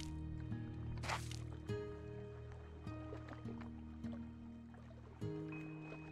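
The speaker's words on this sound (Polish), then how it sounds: "Znaczy to jest źródełko wody" A water spring in the video game Slime Rancher 2 trickles and drips softly beneath layered game music tones, faint and steady with small liquid splashes.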